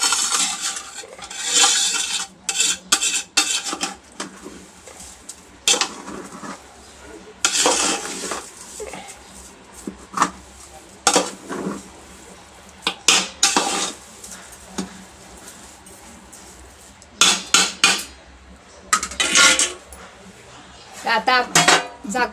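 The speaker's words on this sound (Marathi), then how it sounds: "हे आता आम्ही परतून घेतोय." Metal spoon scraping and clattering in a pan while sheera prasad is stirred and sautéed, irregular bursts of scraping with quiet pauses between, close by, accompanied by faint talking.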